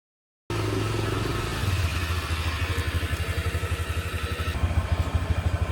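A rented motorbike rides along an island road on Koh Kood, Thailand, its engine pulsing steadily close up after a brief silent start, with a rhythmic putter that grows slightly louder toward the end.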